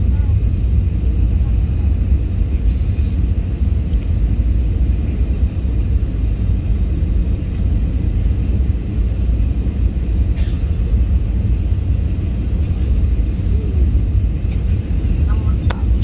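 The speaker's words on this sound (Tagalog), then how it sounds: "Wow, lumapag na din kami." An airliner touches down and rolls out at Davao Airport, heard from inside the cabin as a loud, steady low engine and runway roar filling the whole stretch, with a faint voice underneath.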